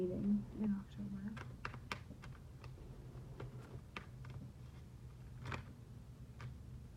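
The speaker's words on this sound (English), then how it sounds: "I'm just shuffling behind the scenes here." Tarot cards being shuffled by hand, soft quick taps and riffles in a quiet room, close and faint, with light breathy sounds between.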